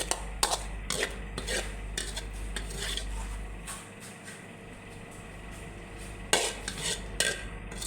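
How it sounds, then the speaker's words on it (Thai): A stir-fried pork dish is served onto a plate, with repeated metal utensil scrapes and clinks against the pan and plate, close and fairly loud, over a low hum. "ใส่จานใส่จานนะครับทุกคน"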